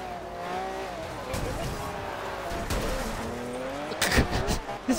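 A car races in a video game, its engine droning steadily with shifting pitch and a burst of skidding scrapes near the end. Players talk over it.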